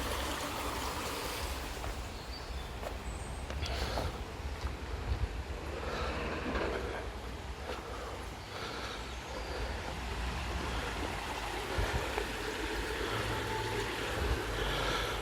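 Steady broadband rush of flowing water fills the whole stretch, dense and continuous, with no voices.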